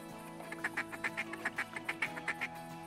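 Ducks quack in TheHunter Classic during a duck hunt, a steady series of about a dozen clear, evenly spaced nasal quacks over a soft outdoor hum, close and prominent.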